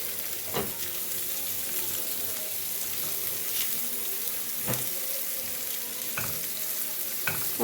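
Small diced carrot cubes tumble into a hot frying pan and get stirred, giving a steady sizzle broken by sharp spoon clatters against the pan, with no voices.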